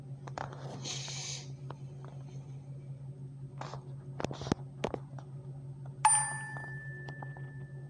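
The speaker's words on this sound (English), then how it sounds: "Got a notification." A single bright notification ding rings out partway through, clear and sustained with a ringing tail, over a steady low hum and scattered faint clicks during a Paper.io game.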